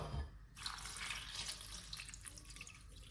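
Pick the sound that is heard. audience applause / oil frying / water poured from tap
water poured from tap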